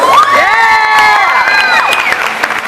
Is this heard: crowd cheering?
yes